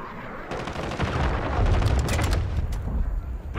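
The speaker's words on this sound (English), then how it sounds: "Cruise missile deployed." A cruise missile strike in the video game Call of Duty: dense, rumbling explosions and rapid gunfire blend into a continuous heavy barrage with deep booming low end, loud and close throughout.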